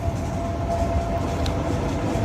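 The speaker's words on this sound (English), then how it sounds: "Sorry, just waiting for a metro to pass." A metro train rumbles past outdoors, a steady continuous low roar of rail cars with faint clatter holding at the same level from start to finish, with no voices.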